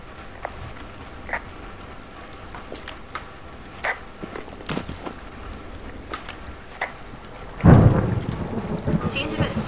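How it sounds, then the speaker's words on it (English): Low thunder rumbles in the distance, with a louder roll near the end, over a faint steady background and occasional light ticks, in the video game Firewatch. "Hey, I heard some thunder."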